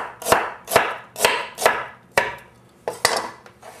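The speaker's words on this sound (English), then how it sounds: "We're just going to throw a rough chop on it" A knife rough-chops ginger on a cutting board with about eight firm, evenly spaced thuds, close and fairly loud, with a short pause before the last few strokes.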